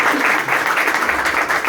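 A church congregation applauds during a Spanish-language service, a steady, loud, dense wash of clapping throughout the short moment.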